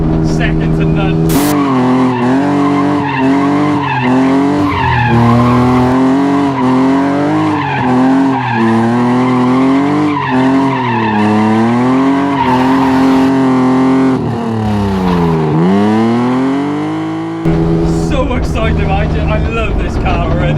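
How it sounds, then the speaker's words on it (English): A loud, close BMW E36 323i straight-six engine in a competition-spec drift car revs hard with its pitch climbing and dropping through the gears, then swoops down before roaring again. "the sound of a BMW straight 6 is just second to none"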